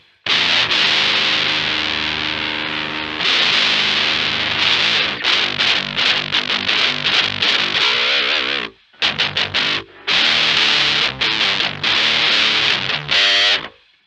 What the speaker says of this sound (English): overdrive, distortion.